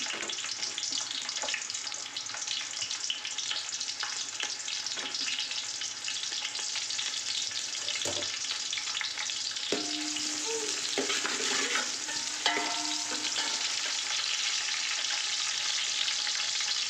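Onions fry in a pan for chicken pulao while being stirred, a continuous close sizzle broken by occasional spoon scrapes and light clinks against the pan.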